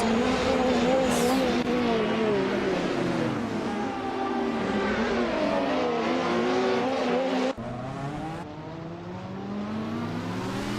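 Race cars from a video game roar continuously at close range, several engines overlapping with rising and falling pitch as they jostle for position, with a brief tire squeal early and a sharp cut in the sound near the end.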